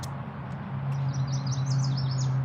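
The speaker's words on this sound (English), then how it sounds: "Was that a bird behind me?" A bird chirps in a quick run of high tweets somewhere behind a speaker, fairly faint over a steady low hum and background hiss.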